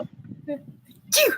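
A single loud sneeze bursts out near the end, after faint murmured talk, close and abrupt, with people chatting around it during a fishing outing on the Ohio River.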